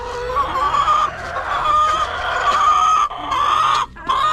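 A pair of chickens clucking close by in a steady, busy stream of calls with brief breaks, no talking.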